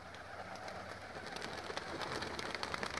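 Pigeons on a city rooftop, soft cooing and wing flutter blended into a steady, fairly loud outdoor wash of noise, with no voices.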